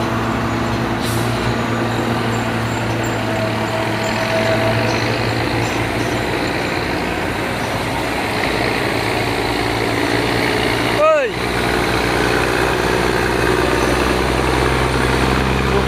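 A heavy Mitsubishi Fuso truck engine rumbles loudly and continuously up close on an uphill climb, with a brief dip and whine partway through as it keeps running.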